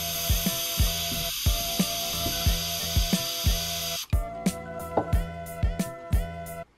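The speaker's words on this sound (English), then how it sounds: "I'm going to try to get it right in there and just spray a little pool in there" Spray paint hisses loudly and continuously into a can cap for several seconds, with rhythmic clicks from shaking or handling, then stops and leaves short knocks and rattles.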